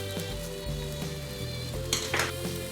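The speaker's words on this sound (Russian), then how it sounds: "Хорошо разогретой сковородки, которую я прокалил заранее, обжариваем с одной стороны блинчик около 40 секунд" Steady sizzling of a pancake frying in a well-heated pan, a continuous crackle with a few light clinks over it.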